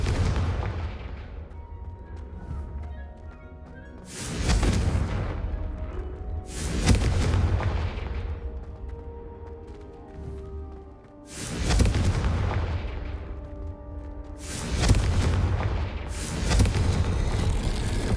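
Confringo fire spell blasts in the game Hogwarts Legacy, five heavy booming explosions spaced a few seconds apart, each loud and close with a decaying rumble and a low background hum between them.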